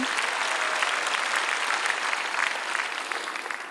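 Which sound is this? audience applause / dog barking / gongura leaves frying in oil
audience applause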